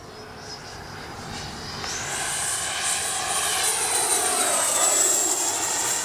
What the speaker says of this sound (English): All right, fast pass into the wind.